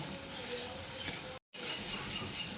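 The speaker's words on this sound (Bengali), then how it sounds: "আমি আরও একটু কালার ধরিয়ে মিষ্টিগুলোকে ভেজে নেব" Sweets fry in hot oil with a steady, close, hissing sizzle that continues throughout, broken only by a brief gap of silence.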